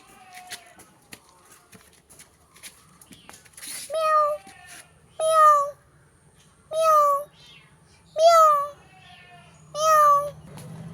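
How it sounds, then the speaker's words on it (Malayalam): A kitten meows five times, high and plaintive, spaced a second or two apart in a quiet room with faint background sounds. "ഇവിടെ കുഞ്ഞി പൂച്ചകളൊക്കെ ഉണ്ട്"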